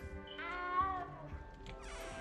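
A cat meows in the video game Hogwarts Legacy, one drawn-out, rising and falling plaintive meow with a wavering whine, heard close and clear against a low game ambience.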